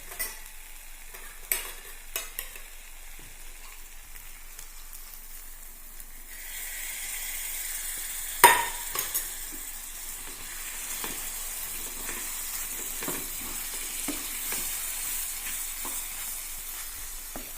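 Potato peralan curry being stirred and mixed in a pan, with a steady soft sizzle and scraping under no talk, a louder clank of the spoon partway through.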